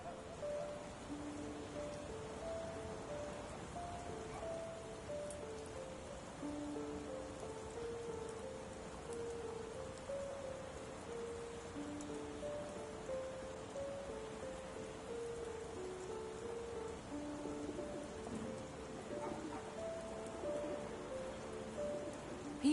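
Steady rain falls throughout a scene in the video game Sherlock Holmes The Awakened, a dense, even patter with soft sustained musical tones running quietly beneath it and no voices.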